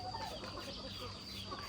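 Chickens cluck faintly and steadily at a roadside food stall in rural Thailand, a soft continuous background of fowl sounds with no clear talk over them.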